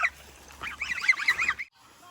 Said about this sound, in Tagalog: ayan ang mga pato